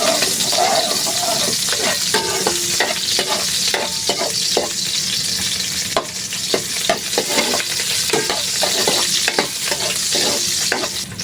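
Garlic, onion and tomato sautéing in hot cooking oil, a loud, steady sizzle with scraping stir strokes and clicks against the pan throughout, no voices.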